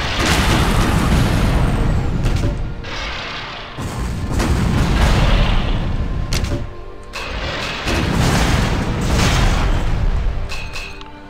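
Repeated heavy booming blasts from a grenade launcher in the sci-fi shooter game Shadowground, rolling in loud, dense bursts across the stretch with brief lulls between volleys and no talking.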